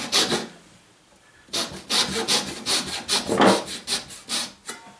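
A hand saw cuts dovetail pins in wood, giving rapid rhythmic rasping strokes, close and crisp, a short burst, a brief pause, then a longer run of even back-and-forth strokes.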